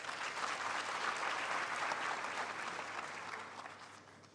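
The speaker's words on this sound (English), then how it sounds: "Please give him another round of applause." A university graduation crowd applauds steadily for several seconds, the clapping dense and even before gradually tapering off.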